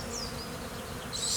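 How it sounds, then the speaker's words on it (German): Carnica honey bees buzz steadily and close up at a beehive in spring Bavaria, a dense continuous hum with a brief higher whine near the end and no talking. "Die Bienen vom Hans sind Carnica-Bienen."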